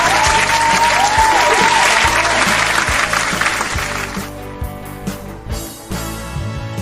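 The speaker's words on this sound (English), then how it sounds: "may I hear a loud clap from you?" Loud applause from a group, sustained and dense, then thinning out into scattered claps toward the end.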